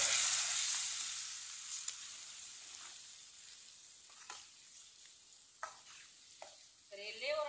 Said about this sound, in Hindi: अब इसमें 3 अंडे डाल लेंगे। अंडों को अच्छी तरह मिक्स कर लेंगे।